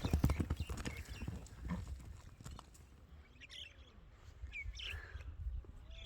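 A horse walking close by, its hooves clip-clopping in a quick run of steps that fades into lighter, scattered footfalls, with birds chirping in the background.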